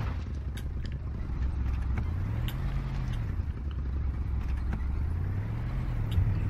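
Car engine droning steadily while driving in the video game Kona, with a low continuous hum that rises and falls in pitch as the vehicle accelerates and eases off, loud and close, with faint clicks above and no talking.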